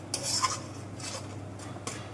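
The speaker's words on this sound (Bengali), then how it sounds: "তাহলে সুন্দর করে কষবো" A spoon scrapes and stirs potato and pointed gourd sautéing in oil in a pan, with a few quick scraping strokes over a faint low hum, close and fairly quiet.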